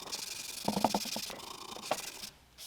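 Sandpaper scrubbing the old finish off the wooden legs of a caned chair, short close rasping strokes in quick bursts, then a pause and one more pass.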